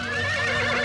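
A cartoon robot horse lets out a loud, close whinny, a single sustained wavering neigh with a bright, slightly synthetic tone filling the whole moment without any talk.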